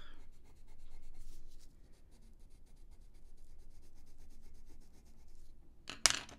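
Faber-Castell Polychromos colored pencil colors on paper, a soft close scratching and rubbing in quick strokes, varying between light pressure and heavier saturating passes, quiet and alone, ending in a sharp brief tap.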